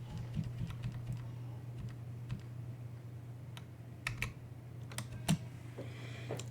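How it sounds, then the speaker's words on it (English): Someone types on a computer keyboard during a Linux terminal session, producing soft, irregular key clicks with a few sharper taps, quiet and close over a low steady hum. "I'm going to press Control key on the keyboard on the left side and X as in Xerox."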